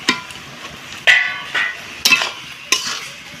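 Vegetable mixture with ginger powder, turmeric and cumin paste being stirred in a pan for a winter vegetable pitha, four distinct scraping strokes at roughly half-second intervals over a soft steady sizzle, close and alone with no voices.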